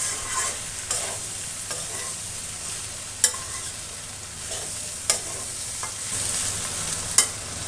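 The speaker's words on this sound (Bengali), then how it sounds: "মশলার কাঁচা গন্ধ না যাওয়া পর্যন্ত কষিয়ে রান্না করে নেব।" Jackfruit and chicken are stir-fried with spices in mustard oil. A steady sizzle runs throughout, broken by occasional sharp clinks and scrapes from the stirring utensil, close-up and without speech.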